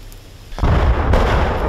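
Gunfire erupts during a battle in a Ukrainian village as soldiers come under fire. After a quiet moment, two loud, close booming bursts hit in quick succession and leave a heavy rumbling tail.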